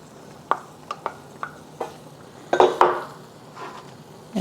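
Fish cake tossed into a pan of wat tan hor fun noodle stir-fry: a string of sharp metal utensil clinks and scrapes against the pan, several quick and evenly spaced, then a louder jumble of scraping and clattering, with no talking.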